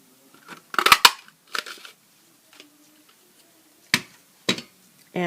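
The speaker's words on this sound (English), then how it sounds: "I'm going to cut this out with this modern label punch." A paper label punch cutting out a stamped paper label for a card, a few crunchy clicks and presses up close, separated by quiet pauses.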